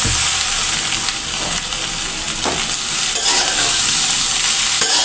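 Noodles and egg are stirred in a hot frying pan with a loud, steady sizzle throughout, and a few soft scrapes of the spatula are heard. No one speaks.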